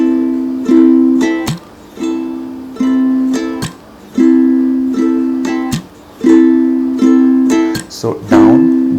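A ukulele is strummed steadily in a down, down, up, chuck pattern, loud ringing chords broken at regular intervals by sharp muted chucks, repeating about four times with no voice.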